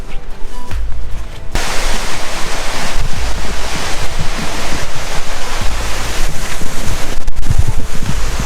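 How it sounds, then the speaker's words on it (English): Relentless winter storm wind during a heavy snowstorm buffets a camper van, a loud, continuous roaring gust noise with surging rhythm, close and unbroken throughout. "That wind is pretty relentless."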